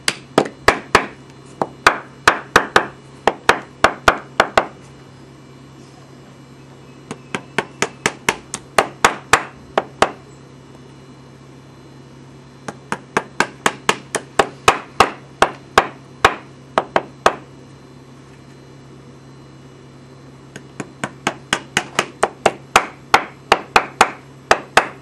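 Rivets are hammered in while lasting a Derby shoe: sharp, close hammer taps in quick rhythmic bursts of about ten strikes, separated by short pauses, repeating over the stretch.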